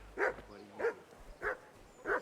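A dog barks in the medieval video game Kingdom Come: Deliverance, four evenly spaced, fairly close barks with little else around them.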